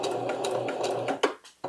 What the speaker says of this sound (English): Now it's just time to sew them. Just the tops of the dress.